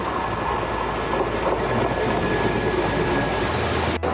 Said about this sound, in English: So that train there is going to Naples.